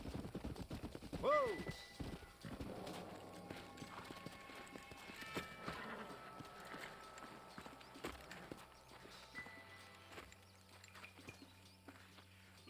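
Horse hooves clatter at a run in a Red Dead Redemption game scene, busy with other effects, then slow and fade as the riders come to a stop.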